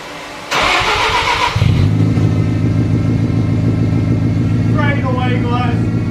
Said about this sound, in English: I heard the rotary start